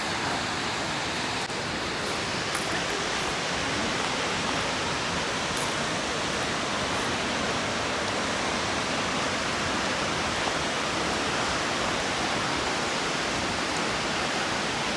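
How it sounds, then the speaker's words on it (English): Akiu Otake Falls, a 55-meter waterfall in Miyagi, Japan, roars as a dense, steady broadband rush of falling water, loud and unbroken for the whole stretch with no voices. "This 55-meter waterfall is truly spectacular in any season"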